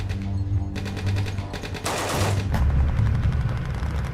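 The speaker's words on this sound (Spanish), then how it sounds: "los davidianos comenzaron a responder con una ráfaga de disparos" Rapid bursts of gunfire ring out from a besieged religious compound as FBI agents insert CS gas, the shots loud and dense over a constant low rumble, with a sharper cluster of reports midway.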